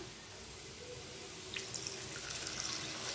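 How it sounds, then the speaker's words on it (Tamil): Water poured into frying egg curry masala in a pan, a soft faint steady splashing pour with a few brighter trickles toward the end, no talk. "இதில் வந்து இன்னும் கொஞ்சம் தண்ணி சேர்த்துக்கலாம்"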